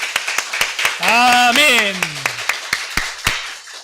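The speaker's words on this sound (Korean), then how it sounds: "오늘도 이 예배 받으실 하나님께 앵콜의 박수하겠습니다" A church congregation at a Sunday morning worship service claps in sharp, scattered beats while a loud voice calls out in a long, sustained, sung-like cry over the clapping.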